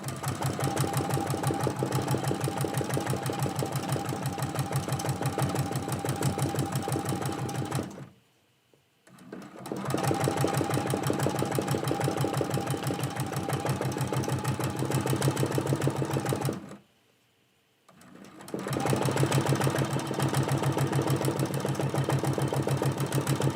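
A sewing machine runs steadily at speed, stitching a quilt-as-you-go Christmas block, its fast even hum broken by two brief pauses before it starts up again; no voices.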